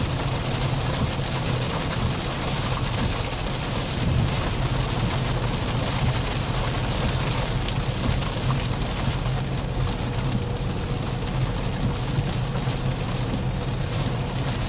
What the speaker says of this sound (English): The rain kind of toned down there a little bit at the end.